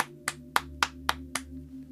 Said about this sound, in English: you should give that round of applause